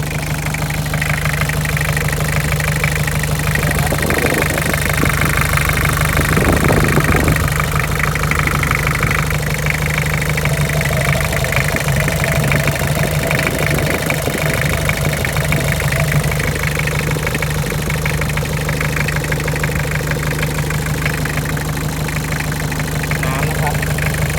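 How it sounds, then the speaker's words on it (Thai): A Toyota Hero diesel pickup engine idles close by, a steady loud chugging rumble with a knocking edge, and a voice talks briefly over it. "เดี๋ยวดูเครื่องยนต์ครับ ใกล้ ๆ"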